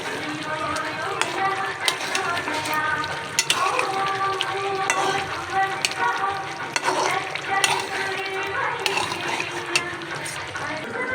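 Chicken meat for biryani fries in a pot while being stirred, making a loud, close sizzle broken by repeated scraping and clanking strokes of a utensil, with some voice faintly present.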